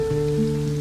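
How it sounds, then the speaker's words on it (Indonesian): Light rain falls steadily as a soft, even patter, quiet and continuous with no voices. "turunlah rintik-rintik hujan"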